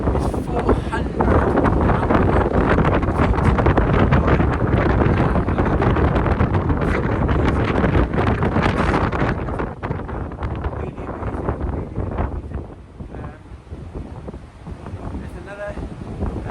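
Strong wind buffeting the microphone at the top of Blackpool Tower, 401 feet up on a wet, windy morning: a loud, continuous roaring rush that eases slightly toward the end, with someone talking under it.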